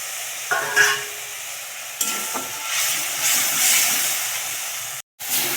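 A spice masala with cumin powder and melted tomatoes sautés in a pan, a steady close sizzle broken by a few stirring scrapes, with no voices.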